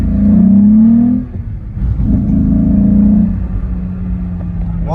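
A Volkswagen Golf VR6 engine accelerates, its deep rumbling drone rising in pitch through a couple of gear pulls with a brief dip between, close and loud without speech.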